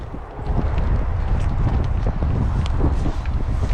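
Dense, rapid horse hoofbeats clatter steadily over loud wind-like rumble, sounding close and continuous, with no talking.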